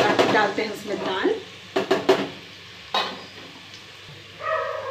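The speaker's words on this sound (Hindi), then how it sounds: "तड़का हो गया उधर तैयार और फटाफट से लगा के डालते हैं उसमें दाल" Loud sizzling and stirring in a hot pan, with metal clinks and sharp spattering bursts as hot dal is poured into a hot oil tempering; brief talking sounds along the way.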